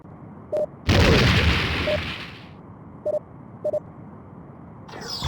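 Enemy starship weapons fire in Star Trek: A Final Unity, a sudden loud boom that decays over about a second and a half, surrounded by short bleeping computer tones and a rising burst at the end.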